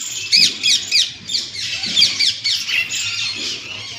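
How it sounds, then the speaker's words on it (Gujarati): Parrots squawking repeatedly in shrill bursts, several calls overlapping at moderate distance with a low background hum. "અને પોપટોનો અવાજ સંભળાય"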